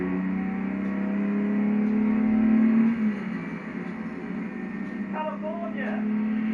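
A car engine in a PS4 racing game revs steadily above about 3,500 RPM, a loud sustained drone that drops in pitch partway through and then holds, with a few brief sounds laid over it.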